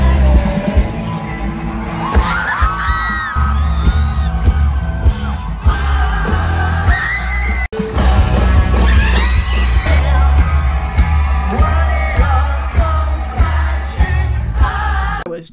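A dense concert crowd at the Riot Fest music festival yells, whoops and cheers loudly and continuously over pounding low-end music, with a brief dip midway before the roar resumes.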